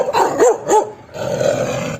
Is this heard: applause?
no